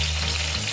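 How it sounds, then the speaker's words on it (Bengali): Potatoes frying in oil in a karahi give a steady, close hiss and sizzle across the whole short span, with no voices. "আমি কড়াইতে তেল দিয়ে আলুগুলো একটু ভেজে নিচ্ছি"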